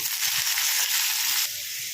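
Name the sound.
chopped onions added to sizzling oil with dried chili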